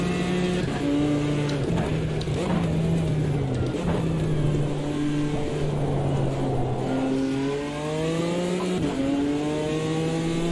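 BMW M4 GT4 race car in Automobilista 2, its engine loud and close, revving up and down through gear changes with rising and falling pitch throughout.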